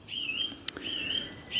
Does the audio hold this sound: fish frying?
no